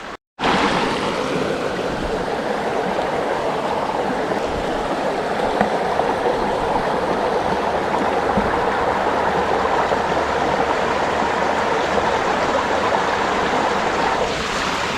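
Water rushes steadily through a gold sluice set in a Wicklow stream, a loud, close, continuous broadband gush that starts abruptly and runs unbroken, with no voices.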